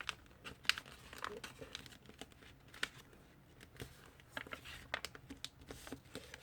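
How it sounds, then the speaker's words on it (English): Sheet of paper being folded in half while making a paper airplane: soft, close crinkling and creasing with scattered sharp rustles, quiet and without talk. "Fold the paper in half and start from this corner,"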